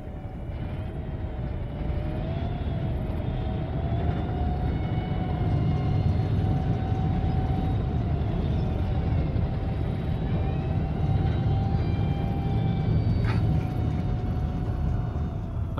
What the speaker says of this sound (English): That fucking turbine engine sounds scary as fuck.